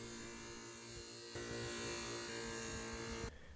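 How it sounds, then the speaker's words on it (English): A buffing wheel whirs steadily against a golf-club knife handle being polished, a continuous close mechanical hum with a slight shift in tone partway through. "then back to the buffing wheel again to finish"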